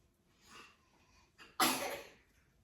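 A 7-month-old baby boy sneezes once, sharp and close, after a couple of softer breathy sniffs, with no talking over it.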